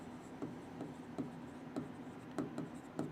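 Pen or pencil writing out puzzle conditions by hand on paper, a soft scratchy rhythm of short strokes with light taps, close and quiet, no talking.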